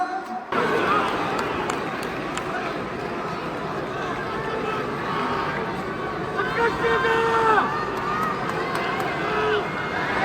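A UFC arena crowd roars and churns as a fight breaks out among spectators, a dense, continuous wall of shouting and babble with a few voices rising above the din for about ten seconds.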